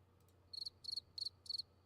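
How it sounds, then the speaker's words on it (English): Cricket chirps from a soundboard play on a panel discussion livestream as short, faint, evenly spaced bursts of high trilling, four pulses in quick rhythm over quiet background hum. "Sounds like it's crickets. Where's my soundboard?"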